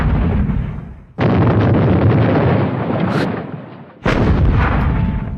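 Two booming howitzer shots in a Squad Battles Eagles Strike game, each a sudden loud blast with a long rumbling tail that fades before the next one lands.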